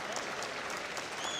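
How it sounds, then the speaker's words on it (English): A basketball crowd claps and cheers in appreciation as an injured player is helped back up during a men's college game between Mohawk and Niagara, steady applause filling the gym for the whole moment. "as the crowd cheers and claps in appreciation"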